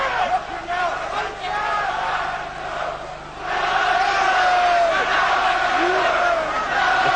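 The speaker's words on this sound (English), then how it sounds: "Crowd once again bring up the chants of Nigel." A boxing arena crowd at the Chris Eubank vs Nigel Benn fight chants for Benn in loud, sustained waves of massed voices that dip briefly and then surge back, with ringside commentary running under the roar.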